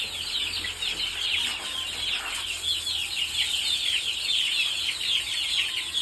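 Baby chicks peeping at bath time, a dense, continuous chorus of high, rapid chirps from many birds close by, with faint rustling underneath.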